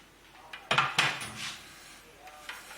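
Corned beef shoved into a cooking pot, giving a few sharp metallic clanks and scrapes of utensil against pot, with quieter handling noises around them.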